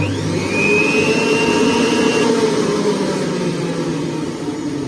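Juilist centrifugal juicer, up to 800W, running at its lowest speed: a steady, fairly loud motor whir with a high whine, constant throughout and no talk.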